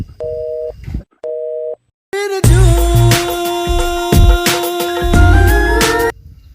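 A phone call cuts off into a busy tone, two short steady beeps, then a dense buzzy burst of tonal noise that holds loud for several seconds before stopping.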